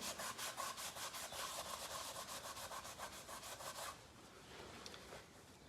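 Cloth rubbed briskly back and forth over painted wood to wear through the top coat, a steady run of quick, rhythmic scrubbing strokes, close and fairly quiet, slowing and softening toward the end.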